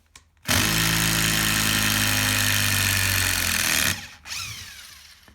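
A DeWALT DCF887 impact driver driving a self-tapping screw gives a loud, close, steady motor whine with rapid hammering for about three seconds, then cuts off before a shorter, quieter burst of spin.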